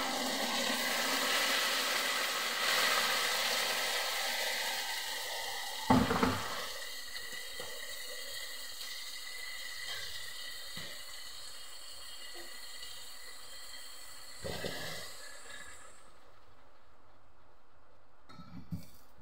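Water is poured into a bottle, a steady hissing gush that gradually thins and quiets, with a couple of brief knocks along the way.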